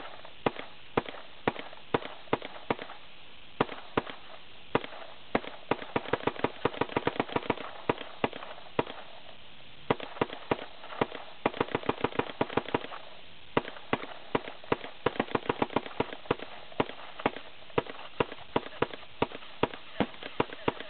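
A WGP Trilogy Autococker paintball marker fires at close range in irregular bursts of sharp pops, single shots mixed with rapid strings of quick shots over about twenty seconds, with no talking.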